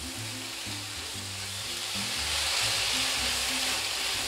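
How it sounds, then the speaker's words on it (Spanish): Tomato sautéing in a pan for stewed salt cod, a steady loud sizzle and crackle of frying with soft stirring, continuous throughout. "Mira qué lindo con ese tomatito. Sofreímos ahí."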